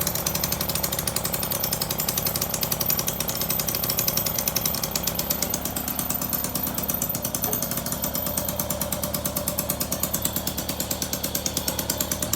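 A Motobecane moped engine fitted with a replacement carburetor idles steadily, a loud, close, rapid buzzing putter with an even pulse that runs throughout and carries no speech.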